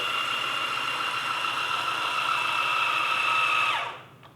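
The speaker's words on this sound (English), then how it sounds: "The motor of the Slypod is just too loud and irritating." Motor of a MOZA Slypod E video slider running, a steady high-pitched electric whine with a faint buzzing hum, close and constant until it winds down and stops just before the end.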